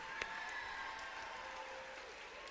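Applause rises from a crowd at the opening ceremony of the BC Winter Games in Quesnel, honouring volunteers, coaches and athletes; a steady wash of clapping fills the clip with one sharper clap near the start.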